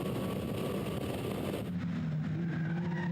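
Caterham Supersport race cars battle at Zolder, engines whining loud and close before the pitch shifts as they pass and fade into a steadier distant drone.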